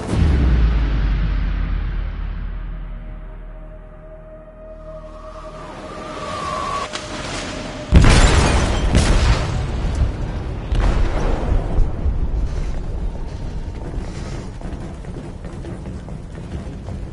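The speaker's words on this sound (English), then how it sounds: "They detonated an explosive in the hold." Explosive detonating in a ship's hold in a video game, a low rumbling buildup, then a sudden loud blast with a sharp crack that leaves heavy, sustained roaring and crashing debris noise, close and powerful.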